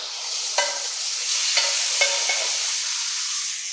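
Shrimp hit a hot pan already holding garlic and sizzle loudly and evenly, with a few sharp clinks of a utensil against the pan and no voices.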